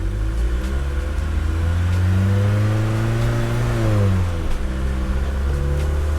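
A restored Mercedes 240GD diesel eases away in first gear on a slight decline, its engine droning steadily and rising gently in pitch, close and continuous with no voices.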